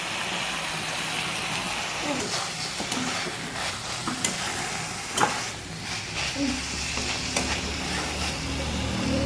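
Ghee and garam masala sizzling in a pan of Bengali banana flower curry cooked with fish head, a steady close frying hiss with stirring scrapes and occasional clinks throughout.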